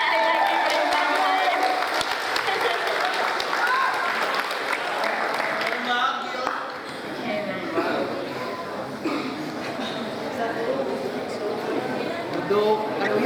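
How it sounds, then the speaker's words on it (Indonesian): Theatre audience applauding after a performance of the play Demang Lehman, loud dense clapping that thins after several seconds into scattered claps and crowd murmur with voices talking over it. "Tepuk tangan sekali lagi bersama."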